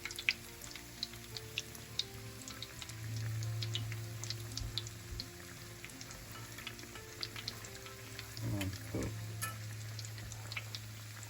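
Old fashioned donuts fry in hot oil with a steady bubbling crackle, sharp pops and ticks scattered throughout, a low background hum beneath, and brief louder bursts near the end as they are turned.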